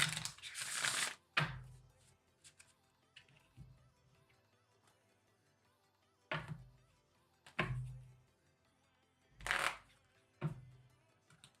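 Playing cards being shuffled in several separate bursts of riffling and snapping, with quiet pauses between them, close by.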